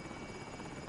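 A helicopter in a PS4 video game holds a steady low, even drone close by, with a brief louder burst at the very end.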